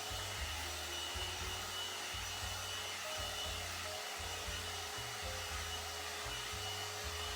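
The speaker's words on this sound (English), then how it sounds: "let me go ahead and finish blow drying my hair" A hair dryer blows with a steady, loud whooshing roar, its low motor hum pulsing unevenly as it runs continuously.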